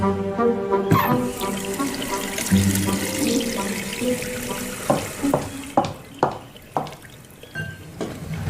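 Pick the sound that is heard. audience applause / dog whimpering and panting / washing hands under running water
washing hands under running water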